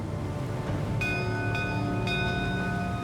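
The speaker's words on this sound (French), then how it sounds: "3 coups de cloche résonnent dans la nuit" A ship's lookout bell on the Titanic rings three times, each clear metallic strike spaced about half a second apart and left to ring out over a low, steady background rumble.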